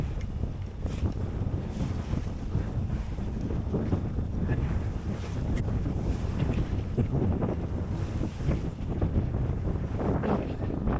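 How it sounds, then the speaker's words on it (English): Short, closely spaced waves slap and wash against a small sailboat at sea off the UK coast, a continuous churning rush with heavy wind buffeting the microphone throughout. "They're not big waves in the slightest. It's just they're so close together."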